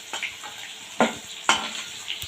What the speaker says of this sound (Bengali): আলুটা খুব সুন্দর লাল লাল ভাজা হয়ে গেছে